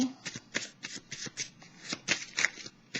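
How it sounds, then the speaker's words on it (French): Tarot cards are shuffled by hand in quick rhythmic riffles, about a dozen crisp papery bursts close to the mic with brief gaps between them. "Un petit peu les petites cartes mélangées."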